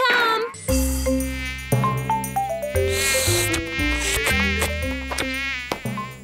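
Cartoon insects buzzing in a children's dinosaur episode, a steady whining drone layered over bright music with plucked melodic notes, continuous and fairly loud throughout with no talking.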